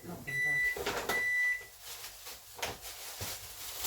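A microwave cooking mushrooms gives two long, clear electronic beeps close by in a home kitchen, with soft clatter and faint movement around them.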